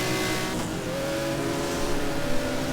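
A Ferrari race car with a naturally aspirated 12-cylinder 1.5 litre engine runs loud and steady, its strained whine holding at high revs with a slight climb early on, alone without voices.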